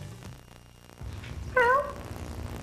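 A single clear, rising-then-falling meow from a cat stands out over low background noise.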